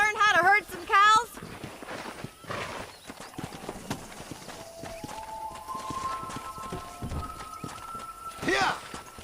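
Horse hooves clip-clop during cattle herding in the Western video game Red Dead Redemption, with a neigh and whistled-like calls at the start, people talking throughout over low steady trotting and ambient game music.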